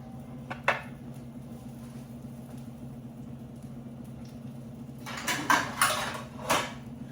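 A lid clanks onto a pot of cooking bitter melon pickle: a single sharp metallic knock early, then several clattering metal contacts near the end over a low steady hum, no talking.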